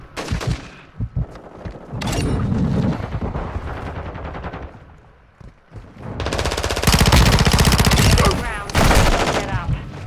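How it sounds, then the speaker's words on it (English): Rapid bursts of loud gunfire in Call of Duty: Modern Warfare 2, machine-gun rattles and blasts in clusters, with quieter gaps between, intense and close. "Oh, I spawned into gunfire."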